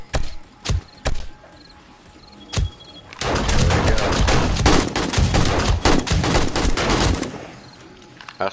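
Gunfire in 7 Days to Die as zombies get shot: a few separate loud cracks, then a dense burst of rapid close shots lasting several seconds before it stops.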